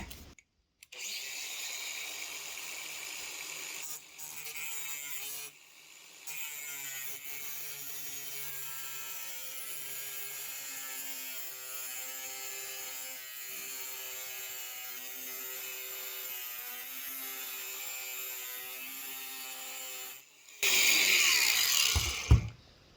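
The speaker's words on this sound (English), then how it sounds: "as I'm making the cut, I'm almost rocking the angle grinder gently up and down" An angle grinder cuts through aluminium with a loud, steady high-pitched whine, briefly pausing twice before a sustained cut, then a harsher burst of grinding near the end.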